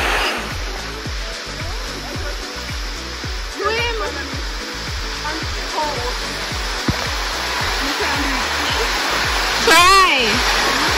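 Falling Edge Waterfall on Bowden Hill, St. Andrew, pours in a steady, loud broadband roar throughout, with voices talking and occasional splashes over the rushing water.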